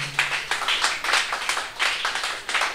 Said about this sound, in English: I would like us to give him a round of applause again.